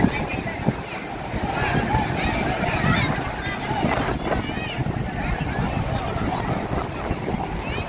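Steady wind and rolling surf roar without a break at Mypadu beach in Nellore, with people's voices mixed into the constant noise.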